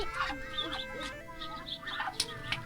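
Chickens clucking close by on a rural Thai farm, repeated short clucks and calls that overlap across a few seconds, fairly faint, over a low background hum.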